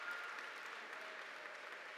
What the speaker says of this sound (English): One more time, let's give him a round of applause.